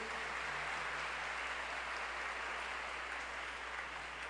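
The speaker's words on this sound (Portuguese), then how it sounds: "Podemos dar uma salva de palmas para a palavra de Deus." Church congregation clapping after a Gospel reading, a steady, even wash of applause heard faintly at a distance over a low hum.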